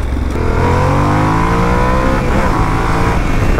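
Yamaha Tenere 700 motorcycle with a burnt-in aftermarket exhaust, its engine droning loud and close as it accelerates, pitch climbing through the gears beneath heavy wind rush.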